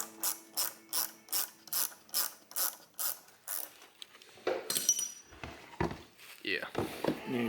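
A hand ratchet clicks in a quick, even series of strokes while loosening bolts on a Toyota Hilux 22R engine near the oil pump. The clicking stops and gives way to people talking and shop clatter.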